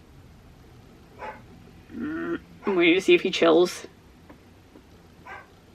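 Dog barking in a home at turkeys shown on a television, several short barks in bursts mixed with a person talking nearby.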